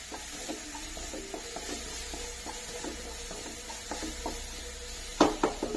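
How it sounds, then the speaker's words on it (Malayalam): Watermelon pickle masala with turmeric powder sautéed in a pan, giving a faint, quiet sizzle and gentle stirring scrapes, with a sharper clatter of the utensil near the end; no voices. "മഞ്ഞൾപ്പൊടി, ഇനി ഇത് നല്ലോണം ഒന്ന് വഴറ്റിയെടുക്കാം."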